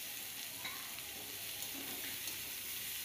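Chopped onions sizzle and fry steadily in hot oil in a pan, a continuous crackling hiss with faint stirring, close and alone.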